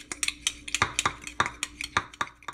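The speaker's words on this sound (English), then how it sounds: "Just going to give that a nice little mix." Ground meat being stirred with fajita seasoning in a pan, a utensil scraping and clinking against the pan in quick irregular strokes, close up with no talking.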